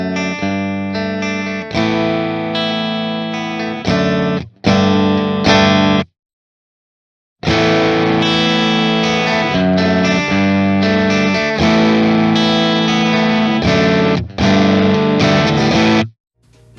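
Strymon Deco pedal's tape saturation distortion on an electric guitar, thick saturated chords played loudly and continuously with a short silent break midway.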